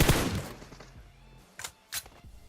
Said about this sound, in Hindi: इतने में ही वहां पे गोलियां चलती हैं जहां पे हम लोग उतरे थे पहले